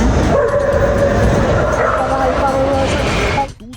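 Military dogs at airport security yip and whimper against a constant loud background rumble, with high, drawn-out whines rising over the noise.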